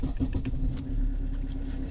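A Mercedes C-Class with the old 2.1 litre diesel engine cranks and catches, a short rattling start that settles into a low, even idle close by.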